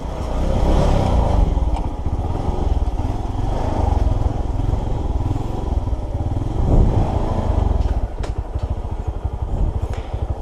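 A motorcycle engine runs continuously close by on a muddy rural path, a loud, rough, throbbing drone with slight shifts in intensity and some rattling.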